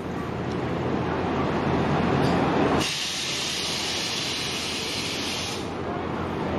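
A PO Santoso intercity bus, series V bound for Merak, pulls out of Ngadirejo terminal. A loud, broad engine rumble gives way to a sharp, sustained air hiss that later fades, with no speech.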